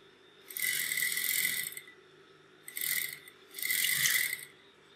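A sewing machine runs stitching a lined kurti seam in three short bursts, a whirring mechanical chatter close by with brief pauses between runs.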